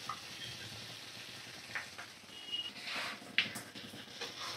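Spices fry in a pan with ginger-garlic paste and cumin paste, giving a soft, steady sizzle that stays low and close, with faint scraping and tapping from stirring.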